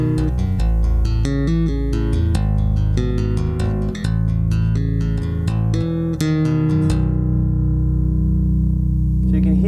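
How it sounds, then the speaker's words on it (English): Tapped bass guitar notes played through a BG250 combo bass amp set to an open, airy tone, with a quick run of percussive plucks and finger clicks that ring out into a sustained low note. "So you can hear all the taps and all the clicks and stuff"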